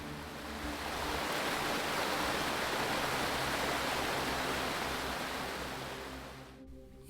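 A babbling mountain brook runs beside a summer farm in Alvdal, Norway, a steady broadband rush of flowing water that swells slightly and then fades near the end.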